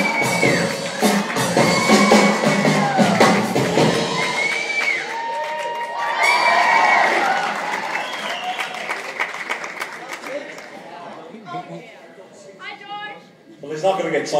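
A lively audience at a 1964 Beatles tribute show claps, cheers and whoops, with children shouting among the crowd and voices talking over the noise, the clapping dying away toward the end.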